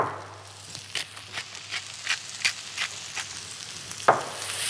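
Onion and garlic seasoned with salt and black pepper sautéing in a pan, a constant close sizzle broken by regular scraping stirs roughly every half second and a sharper clack near the end.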